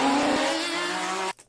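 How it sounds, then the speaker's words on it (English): A car engine fitted with a changed exhaust runs loud and steady with a tonal drone, its faint low-rev squeak buried under the exhaust before the sound cuts off abruptly. "the squeak sound in the low rev range is still there, but because the car is now so loud, it's much less prominent than before"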